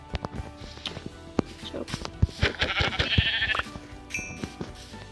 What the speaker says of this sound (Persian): بیا اینم یه گوسفند دیگه.